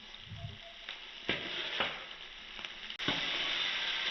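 Mustard seeds, curry leaves and chopped green chilies frying in a pan, a steady close sizzle with small pops and spatters, a few sharper crackles standing out, and no talking.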